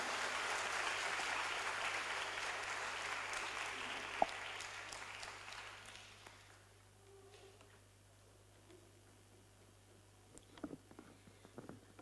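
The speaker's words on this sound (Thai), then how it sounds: "ขอเสียงปรบมือต้อนรับคุณนิธินันท์ยอแสงรัตน์ผู้สื่อข่าวอาวุโสครับ" Audience applause welcoming a senior journalist to the stage at a Thai talk event, dense clapping that fades out after about six seconds, leaving quiet room noise and a few faint later sounds.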